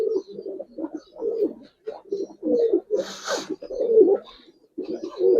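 Giribaz pigeons coo close by in a steady run of soft, low, throaty calls repeated in short phrases, with a brief rustle partway through.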